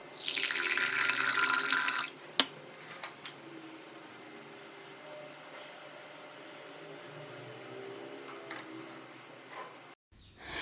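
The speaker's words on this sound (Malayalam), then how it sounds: "മിൽക്ക് പാനിലേക്ക് വെള്ളം ഒഴിച്ച് കൊടുത്തു" Water runs from a tap into a milk pan for about two seconds, a steady close hiss and splash. Quieter kitchen sounds, including a few brief knocks, follow, and nobody speaks.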